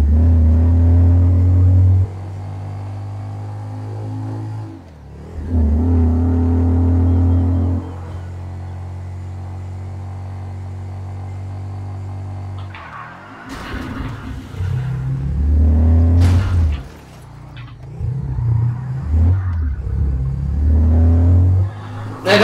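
Canis Kalahari topless off-roader in GTA 5 Online, its engine droning at steady revs, then after a brief drop roaring through repeated loud rev bursts and accelerations, close and alone.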